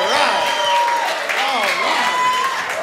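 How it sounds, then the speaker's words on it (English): Audience applause welcoming a performer onstage at a variety show, steady clapping under continuous overlapping talk and a tonal voice for about three seconds. "Let's give a big round of applause to Justin Johnson."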